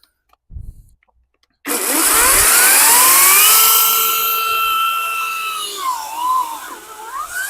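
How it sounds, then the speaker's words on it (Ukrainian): A Grosser GCS 160 40V cordless chainsaw cuts after a brief silence, its motor whining up sharply and holding a loud high-pitched scream with rising and falling pitch as the chain bites into wood. "Я чую, що вона пиляє добре"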